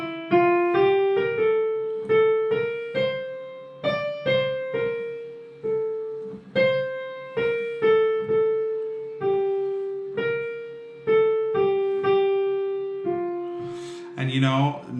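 A solo piano plays an embellished melody with suspensions, its single-line notes over sustained low chords at a steady, moderate pace. A brief noisy rustle comes at the very end, and no one talks.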